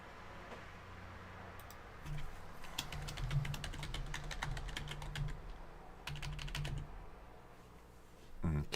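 Typing on a computer keyboard, close clicky keystrokes in quick bursts with short pauses between, alone against a quiet room hum.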